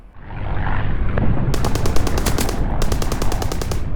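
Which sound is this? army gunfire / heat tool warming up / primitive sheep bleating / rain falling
army gunfire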